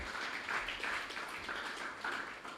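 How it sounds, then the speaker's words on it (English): A faint, distant round of applause from an audience at a cricket club awards ceremony honouring a cricketer, soft and continuous throughout. "So let us give him a round of applause."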